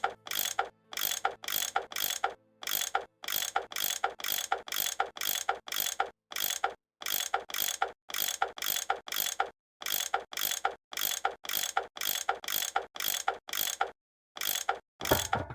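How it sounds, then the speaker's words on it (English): A tool unscrewing bolts in the Nancy Drew game Last Train to Blue Moon Canyon, a rapid, evenly repeating metallic ratcheting in short bursts separated by brief pauses, crisp and close with no speech. "That tool I saw in the caboose, I bet that's what you use to unscrew these bolts."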